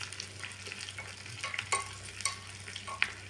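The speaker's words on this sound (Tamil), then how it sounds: "நல்லா ஃப்ரை பண்ண போகிறோம்" Wheat porridge seasoning fries in a pan with a soft, continuous sizzle while a utensil stirs and scrapes in light irregular taps, close and quiet, no voices.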